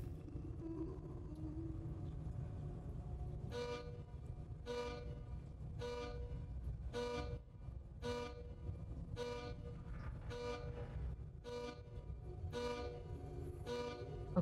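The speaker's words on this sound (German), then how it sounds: "es hupt jetzt so oft, wie ich eingeben muss" A car horn honks about ten times in a steady, evenly spaced series inside the horror video game The Cursed Tape, loud and clear over a constant low rumble.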